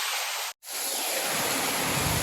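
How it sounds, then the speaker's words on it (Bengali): Heavy rain pours steadily during a storm with flooding and strong wind, a dense broadband hiss that cuts out for a moment near the start and then resumes, continuous and close with no voices. "অনেকদিন পর অবশেষে বৃষ্টি শুরু হলো"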